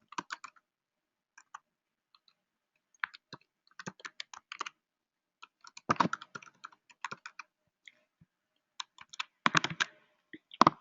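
Keys on a computer keyboard clatter in irregular bursts of quick taps with short pauses between them, close and fairly quiet.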